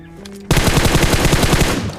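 Automatic gunfire in a PUBG-style battle royale video game: after a brief quiet tonal lead-in, a loud, rapid burst of machine-gun shots rattles for over a second.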